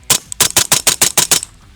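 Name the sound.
gunshot from a 10.4-inch barrel 416 SBR rifle firing 5.56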